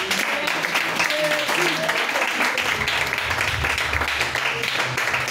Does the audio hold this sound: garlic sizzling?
no